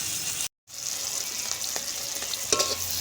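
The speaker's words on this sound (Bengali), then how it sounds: "পেঁয়াজ আর ক্যাপসিকাম ভেজে নেব" Onion and capsicum fry in oil in a pan with a steady, close sizzle, broken by a brief silent gap near the start and a few stirring scrapes later, with no voices.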